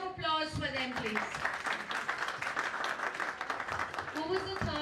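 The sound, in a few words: audience applause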